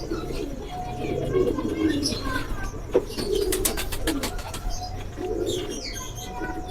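Deep-eyed pigeons coo repeatedly at close range, soft rolling calls recurring over a low background murmur, with occasional wing flutters and people talking nearby.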